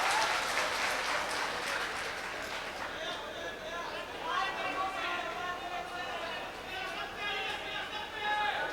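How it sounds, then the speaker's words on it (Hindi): Audience applause at a mushaira poetry symposium, a steady wash of clapping that fills the whole stretch, with crowd chatter and murmuring mixed in beneath it. "एक बार ताली बजाइए"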